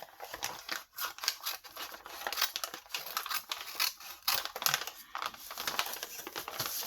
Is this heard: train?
no